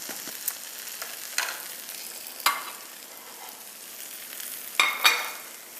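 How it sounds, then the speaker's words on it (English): Food fries in oil in a pan, a soft continuous sizzle broken by several sharp crackles and pops scattered across the stretch. "Just take this and let this fry and set well."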